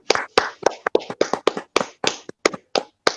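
A small group claps in uneven, separated bursts rather than a continuous roar, each clap sharp and close, after a sermon at a Protestant church gathering.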